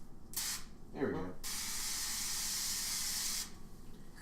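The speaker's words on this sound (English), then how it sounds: "This is an olive oil spray." A brand-new can of olive oil cooking spray releases one sustained, loud hissing burst of about two seconds, preceded by a short spurt, close by in a kitchen while hamburgers are being cooked.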